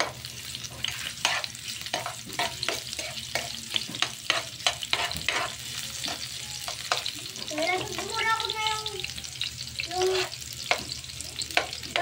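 Onion frying in a pan for adobong sitaw sizzles softly and steadily, broken by repeated sharp scrapes and clacks of a utensil stirring, with a brief squeaky whistle-like sound midway.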